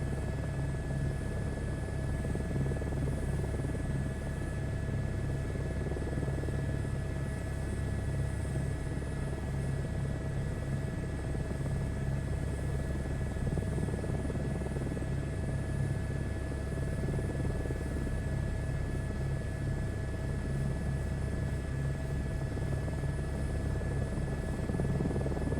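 Huey helicopter flying in Microsoft Flight Simulator 2024, a steady loud rotor and turbine drone with a low pulsing beat and a constant whine, unbroken for the whole stretch with no talk.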